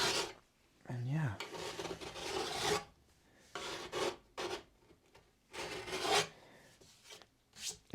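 A file scrapes along a clamped snowboard's edges to detune them, giving rough rasping strokes in several bursts separated by short pauses, close up, with a brief faint voice between strokes.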